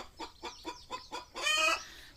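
Hens and chicks on a desi poultry farm, a run of five quick, soft clucks followed by a louder, drawn-out squawk, fairly close and faint, with no talking.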